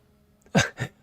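A single sneeze in a quiet room: a short sharp inhale followed by a loud burst and a smaller second burst, heard close and alone.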